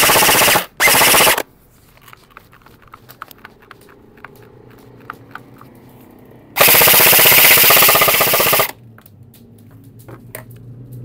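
Specna Arms SAF-01 airsoft electric gun fired on full auto: two short loud bursts and then one longer sustained burst of rapid mechanical shots, close, with quiet gaps between them and no talking.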